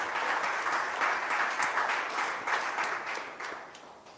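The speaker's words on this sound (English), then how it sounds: "Give yourselves a round of applause." A packed, standing-room crowd at a political community town meeting in Bethel, Tobago breaks into steady, dense applause that holds for about four seconds with no talking.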